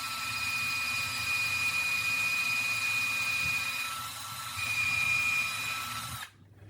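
A power drill boring a hole into a wall to mount a TV, a steady whining hum running continuously and close, briefly shifting in pitch before cutting off abruptly near the end.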